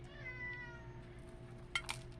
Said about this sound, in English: Oh, there's my whiny cat.